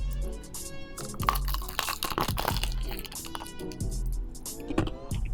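Crunchy fried chicken being bitten and chewed, with sharp crackling crunches and irregular close-up chewing over several seconds, with no talk.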